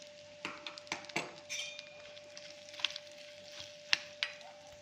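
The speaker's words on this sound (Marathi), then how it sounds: "आता हे सर्व आपण छान मिक्स करून घेऊया." Raw mango instant pickle being mixed with spices, a spoon scraping and clinking against the bowl in scattered sharp taps and wet stirs, close and fairly quiet over a steady faint hum.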